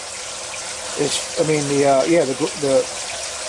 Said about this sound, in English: bed is filling up with water.